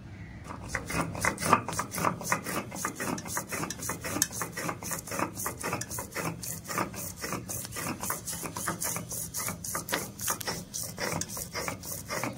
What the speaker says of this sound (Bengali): এবার সর্ষেটাকে বেটে নেব। সর্ষে বাটতে গেলে একটু মিহি করে বাটতে হয়।